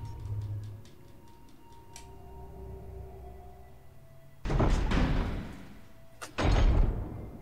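Heavy door slams shut twice in System Shock Remastered, a loud thudding burst followed by a second close impact, with faint ticking mechanical sounds beforehand and no talk.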